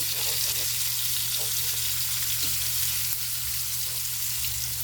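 Crushed tomatoes fry with a continuous bright sizzle in a pan for Filipino pakbet, a steady close hiss broken by a few soft stirring taps, no voices.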